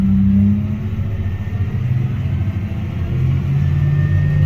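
Tractor engine powering the PTO of a manure spreader, a steady low diesel rumble that rises as the throttle is opened, with no talk over it.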